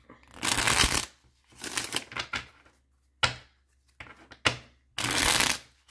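A tarot card deck being shuffled up close, several quick riffling bursts of cards separated by brief pauses and sharp taps, loud and crisp with no talking.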